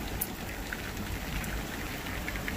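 Heavy rain pours down during the rainy season, a dense, steady hiss of drops drumming on surfaces with no letup and a few brighter splashes, heard alone without voices.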